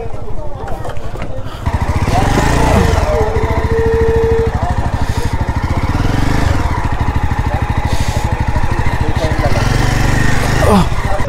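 A motorcycle's engine runs loud and steady at close range while the bike is loaded onto a ferry vessel at Raichak, and voices talk over the engine throughout.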